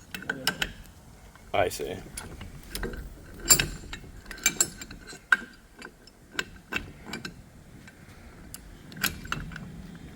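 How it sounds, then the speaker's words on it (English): A hydraulic three-jaw puller works on a Can-Am Ryker clutch during an upgraded clutch kit install, giving irregular close mechanical clicks and ratcheting knocks spread across the clip, with a brief spoken reply. "And so we're going to use this 3-jaw puller."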